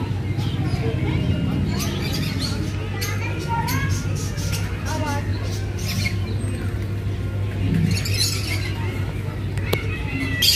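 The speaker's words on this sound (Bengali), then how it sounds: "এই যে দেখতে পাচ্ছেন সামনে বিভিন্ন ধরনের পাখি আছে" Birds and pigeons of various kinds chatter, chirp and squawk in a park aviary, a busy overlapping flock of calls with people talking and children's voices mixed in throughout.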